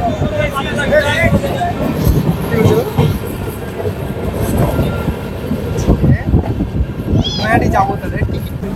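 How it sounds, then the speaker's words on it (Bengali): Sairang Kolkata Express rolling into platform 1 at Krishnanagar City Junction, a steady rumble of wheels and carriages with occasional squeals and clacks, heard close and continuous beneath someone talking. "আর এই ট্রেনটি কৃষ্ণনগর সিটি জংশনের 1 নম্বর প্ল্যাটফর্মে প্রবেশ করবে।"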